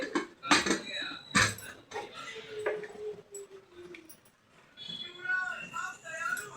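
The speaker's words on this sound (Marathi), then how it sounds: "आता ह्याला आपण झाकण, कुकरचं जो झाकण असतो त्याच्याने पॅक करून घेऊया." Metal pot and lid clatter as a pressure cooker holding dal is closed with its lid, several sharp clanks and scrapes up close, then lighter rattling.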